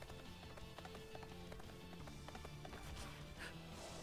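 A horse gallops in the Tales of Vesperia video game, rapid rhythmic hoofbeats under dense game music and effects, steady and fairly faint throughout.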